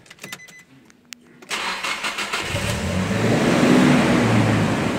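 Nissan S15 Silvia with a decat and exhaust box delete pipe, cranking and firing up after a few clicks, then settling into a loud, rough idle that builds slightly, heard up close.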